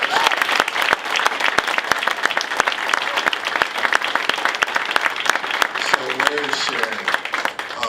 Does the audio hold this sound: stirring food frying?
no